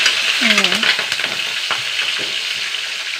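Mustard seeds and dried red chilies hit hot oil for a beetroot curry, bursting into a loud, close, crackling sizzle with sharp pops that settles into a steady fry, with a brief voice near the start.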